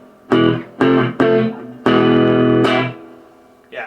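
Electric guitar through a Peavey Classic 50 amp with the reverb turned down to about 3: four loud distorted chords, the fourth held and ringing out with a short trail, then a fresh strike at the very end.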